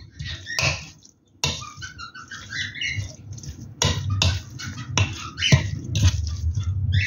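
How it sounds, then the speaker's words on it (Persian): Pet cockatiel in a home kitchen during cooking gives a series of shrill chirps and squawks over a steady low background rumble. "این صدایی که میشنوید صدای عروس هلندینه"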